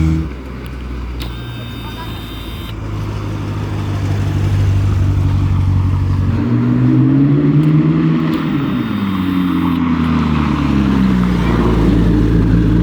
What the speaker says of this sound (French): On entend bien le bruit des turbos.